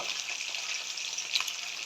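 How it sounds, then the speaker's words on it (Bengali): Pabda fish frying lightly in oil, a steady close bright sizzle with a brief extra crackle near the end, heard alone without talk. "হালকা করে মাছটা ভাজা হবে পাবদা মাছটা ঠিক হালকা হালকা করে রান্না করে ভেজে রান্না করলে খুব ভালো হয়"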